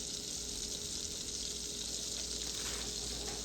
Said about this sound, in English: while our butter is there melting